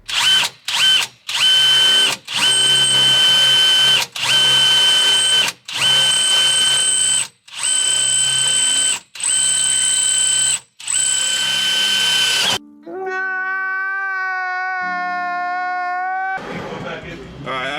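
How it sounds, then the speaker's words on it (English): Power drill boring holes in a car's body during a battery relocation on a CT9A, heard as roughly a dozen loud, close bursts of whirring separated by brief pauses, followed by a lower ratcheting or geared mechanical whine near the end. "after you drill these holes"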